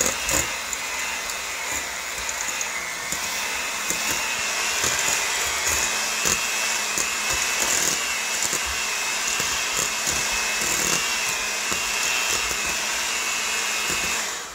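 An electric mixer whirs loudly and steadily through peanut butter cookie dough, one continuous motor drone with no pauses and no talking.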